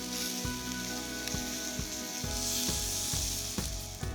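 Shrimp fry in a hot pan with a loud, continuous sizzle, while faint regular ticks and light stirring sounds run beneath it.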